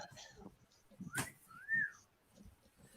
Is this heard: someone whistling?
yes